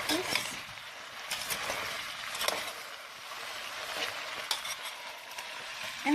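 Clam chowder being stirred in a pot on high heat, with soft scraping, clinks of a utensil and a light bubbling sizzle, quiet and close.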